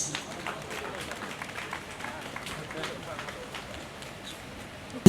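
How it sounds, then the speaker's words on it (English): Steady applause from a ceremonial crowd touring the Manhyia museum with the Asantehene and British royal guests, a dense, even patter of many hands held at moderate level throughout. "A big round of applause, please."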